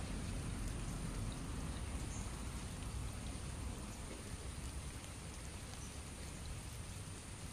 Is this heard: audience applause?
no